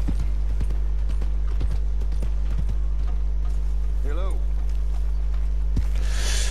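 A horse's hooves in the video game Red Dead Redemption 2 clip-clop steadily in a quick, irregular rhythm over a constant low rumble, with a brief whinny partway through.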